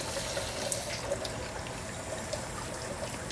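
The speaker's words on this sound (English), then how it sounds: "this is my cold water. And I'll just let it run in here" Cold tap water runs steadily into a strainer over just-cooked poke salad greens, a constant soft splashing trickle with no voices.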